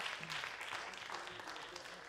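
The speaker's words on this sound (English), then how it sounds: "maybe just another round of applause for a fantastic set." Very faint audience applause after a live French pop concert set, a soft, distant patter of clapping with murmured voices underneath.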